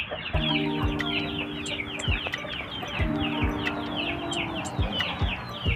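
Backyard flock of healthy hens and chickens clucking steadily in a coop during breeding season, overlapping calls close by with a busy, continuous chatter and occasional louder squawks.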